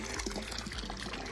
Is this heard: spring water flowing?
yes